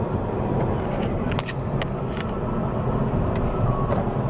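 Steady interior car noise, a constant low engine drone and road rumble from a moving car, with faint clicks and rattles over about four seconds and no talk.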